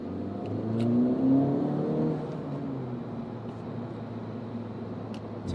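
An Acura Integra Type S accelerating gently at low RPM, its engine note rising steadily then easing into a smooth, moderately loud drone heard up close from inside the car.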